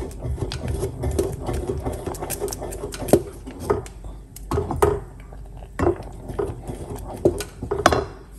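Jamaican strong back porridge is stirred in a bowl after vanilla goes in, producing a rhythmic series of clinking, scraping strokes with a low, steady hum underneath.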